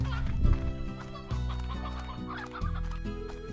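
Chickens in the video game Slime Rancher cluck in a series of loud, close, choppy bursts that shift in pitch every second or so, with no speech over them.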